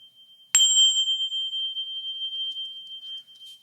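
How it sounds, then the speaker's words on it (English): A small brass bell shaped like a half sphere is struck once, giving a sharp bright strike that rings on as a clean, pure sustained tone, slowly fading, close and clear with faint handling ticks later. "It's a brass bell."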